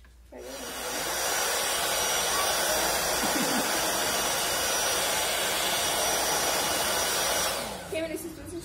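A hair dryer runs continuously while drying a woman's hair during a straightening session, a loud steady whoosh that starts abruptly, holds for about seven seconds and then cuts off.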